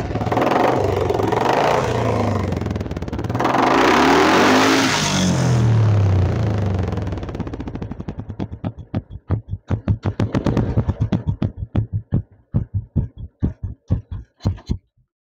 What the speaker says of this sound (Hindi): पैड पे बुलेट की आवाज कैसी आती है